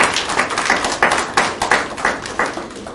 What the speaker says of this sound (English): Kindly give the judges a clap.